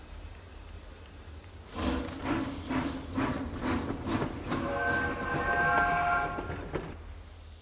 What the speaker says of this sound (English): get onto this train so we can head over to Hogwarts